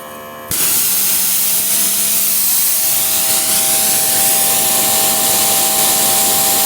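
A Greenworks Pro 2700 PSI pressure washer (GPW2700) starts up after a short quiet moment, then sprays hard through its 4.0 nozzle in a loud, steady hiss with a motor hum underneath.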